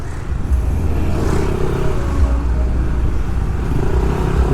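A big motorcycle passes close by on Jalan Raya Canggu in Bali, its engine drone rising and falling over steady road traffic rumble, loud and near, with no talking.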